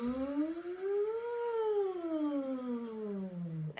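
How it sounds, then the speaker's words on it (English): Singer's vocal warm-up on a buzzing V sound, one continuous voiced glide that rises smoothly in pitch and then falls back down below where it began, steady and close. "change direction and change the sound to a V."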